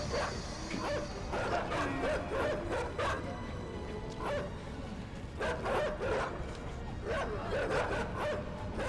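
Dogs barking and yipping in the video game Inside, repeated bursts of barks and whimpers over a rumbling game soundscape, fairly close and continuous across the stretch.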